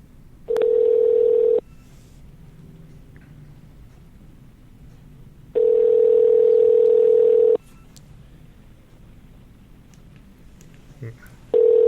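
Phone call being placed, with two long steady ringback tones separated by a few seconds of quiet, clear and close, followed by a brief click as the line connects.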